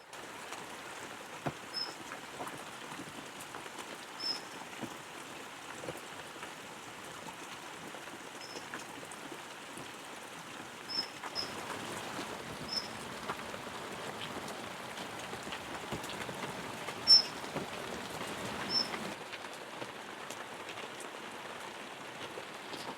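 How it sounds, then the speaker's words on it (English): Heavy rain falling on a garden, a steady soft hiss of drops with occasional louder individual drips, continuous and fairly quiet throughout. "So it's really raining quite hard now"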